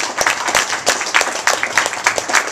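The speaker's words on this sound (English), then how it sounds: "join me in a round of applause for all these graduates" Audience applause for economics master's graduates at a university commencement: brisk, uneven clapping from a modest crowd, individual claps distinct and close, lasting a few seconds.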